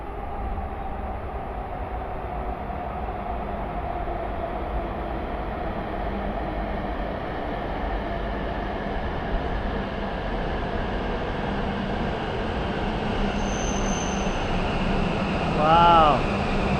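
A train pulls into a station in Japan near Nagano with a steady, loud rumble that builds slightly, and a brief high tone sounds near the end.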